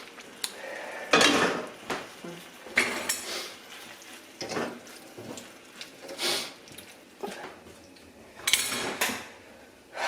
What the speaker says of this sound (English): Last thing I'm going to do is go ahead and add our pasta